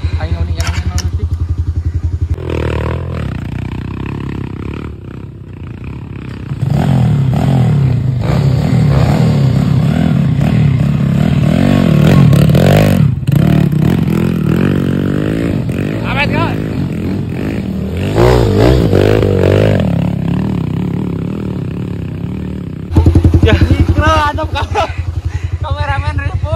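A motorcycle on an off-road trail ride revs and runs loudly close by, its engine rising and falling in surges, with people talking over it throughout.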